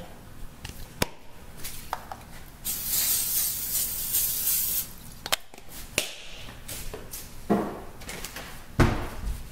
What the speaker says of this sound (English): So I just spray it with some non-stick spray.